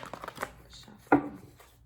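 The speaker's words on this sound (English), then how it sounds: "so I'm just going to give them a little shuffle." Tarot cards shuffled by hand close up, giving soft papery riffles and rustles followed by one sharper snapping burst near the end, in a quiet room.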